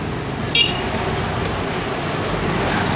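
Continuous roadway traffic noise heard while a delivery truck moves through traffic, a steady low engine and tire rumble with a short sharp click partway through and no clear talking.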